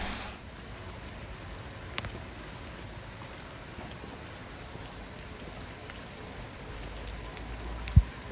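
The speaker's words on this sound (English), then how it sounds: "I'm out in the rain all the time, almost every day when it's raining" Steady rain patters on surfaces outdoors during a morning walk past an arts center garden, an even wash of drops with a few louder ticks and a sharp knock near the end.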